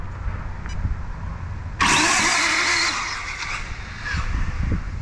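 The motor of an Arrma Infraction RC car starts up with a sudden loud, whining burst that runs for about a second and a half, then drops back into outdoor background noise.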